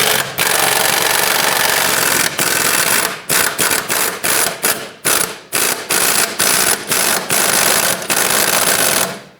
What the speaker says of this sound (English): I'm going to first take off the lower bolt